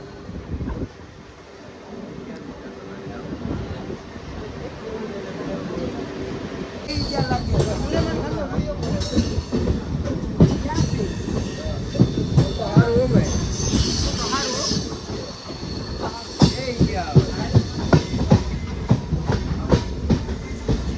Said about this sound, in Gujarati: ટ્રેન આવે જો